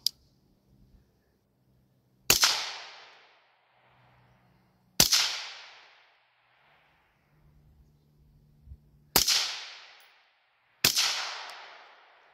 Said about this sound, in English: So now we're going to test our third string of fire.